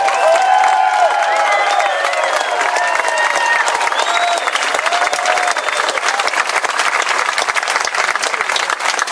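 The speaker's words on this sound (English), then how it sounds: "give them a big round of applause" A crowd applauds at a Franklin, North Carolina rally in support of law enforcement. The dense, steady clapping runs throughout, with a few whistles and cheers mixed in.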